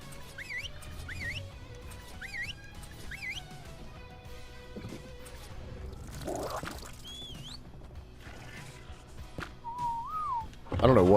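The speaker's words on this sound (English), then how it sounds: "I don't know what I just whistled." A person whistles a string of short rising, swooping notes in quick repeated phrases, then a longer glide and a wavering tone near the end, fairly close and clear over a low background hum.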